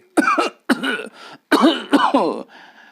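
Several hoarse, rasping coughs from an old man come in short bursts, with brief pauses between them.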